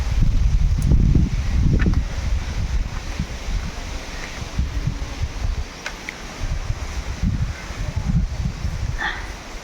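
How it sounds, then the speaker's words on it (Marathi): Strong stormy wind gusts through trees in a Konkan village near Rajapur, with a steady roaring rush and rustling leaves in uneven waves and a few faint knocks, no voices. "आणि आता वादळी वारा सुटलेला आहे"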